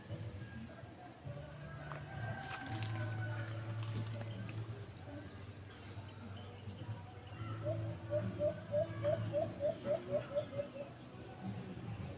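Alimokon dove kept as a pet, giving a short series of soft rhythmic coos in the latter half, faint against background rustle and low hum, with a few scattered knocks earlier.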